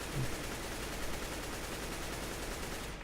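An AK-47 firing in CS:GO, a dense continuous rattle of automatic gunfire lasting about three seconds at an even level, with no voices.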